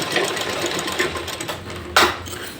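Sewing machine stitching a folded strip of fabric for a large pant, with a steady close whirring rhythm and a brief louder clatter near the end. No one talks.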